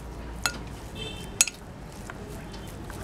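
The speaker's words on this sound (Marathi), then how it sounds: "आधी आपण हा चक्का फोडून घेऊया" A spoon clinks twice against a bowl while homemade hung curd (chakka) is broken up for shrikhand, with soft scraping and squishing in between; close and fairly quiet.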